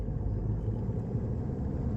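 A manual car's engine hums in a low, steady rumble from inside the cabin during a driving lesson on a road, with no speech.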